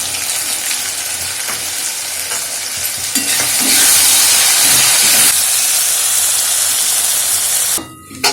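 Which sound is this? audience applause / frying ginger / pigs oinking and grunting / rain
frying ginger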